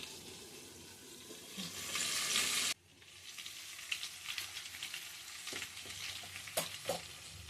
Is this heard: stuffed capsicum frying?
yes